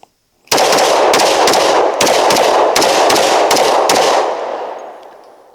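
A Glock 20 Gen 5 10mm handgun fires a magazine of about ten rounds in quick succession outdoors, each shot a sharp, very loud crack, ending in a lingering echo.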